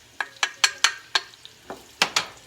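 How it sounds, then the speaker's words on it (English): Onions and garlic sautéing in oil in a warmed pot for cabbage and rice soup, stirred with a utensil: a string of sharp, close scraping strokes in an uneven rhythm over a faint sizzle, no talk. "So I'm gonna saute them just until they get to about a golden brown."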